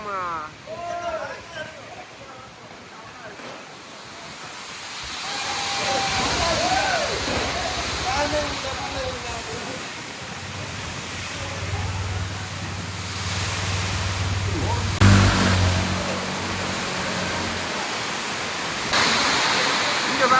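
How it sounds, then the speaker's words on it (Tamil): Strong cyclone wind in Jaffna roars and buffets continuously, with rushing, surf-like noise and gusts building; a voice speaks briefly in Tamil near the start. "பாருங்கள் அப்படி காற்று"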